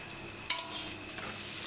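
Onion and egg frying in oil in a heavy pan, a soft steady sizzle with a brief scrape of stirring partway through, fairly quiet and without voices.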